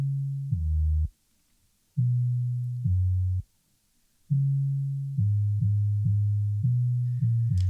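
A low, smooth synth bass line plays alone, holding short and long notes in a stepping pattern with brief silences between phrases.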